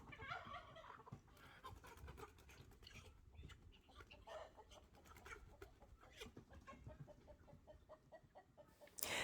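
Chickens cluck and squawk on a farm on butchering day, a string of agitated, uneven clucks and calls over a bustling background, fairly faint, with no voices.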